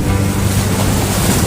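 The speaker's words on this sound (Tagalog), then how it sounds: "Sobrang lalaki po ng alon dito." Large ocean waves surge and break on a rocky shore at Patar Beach in Bolinao, Pangasinan, a loud, continuous roar of surf with wind buffeting the microphone close by.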